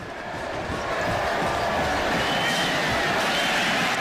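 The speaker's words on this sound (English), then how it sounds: "That's why you hear the applause from the Hokie fans in the background." Crowd of Virginia Tech fans applauding and cheering after a touchdown at the 2007 ACC Championship football game against Boston College, a steady broad roar heard from a distance in the background for the whole span.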